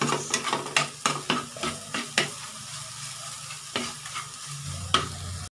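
Sardines frying in a pan, a constant sizzle punctuated by repeated scraping strokes of a utensil stirring them, about a dozen clatters in irregular rhythm, close and clear with no voices.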